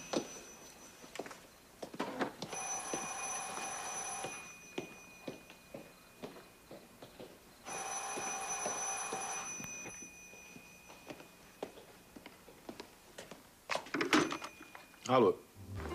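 A telephone rings indoors in two long electric bell bursts at moderate distance, with soft footsteps and people talking around it.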